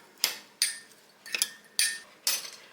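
Five sharp clinks of a spoon against a mug while stirring a microwave mug meal, spaced irregularly over a couple of seconds, close and fairly quiet.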